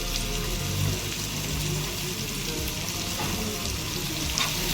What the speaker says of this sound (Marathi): सगळं हलवून घेते। मिक्स करून घेते।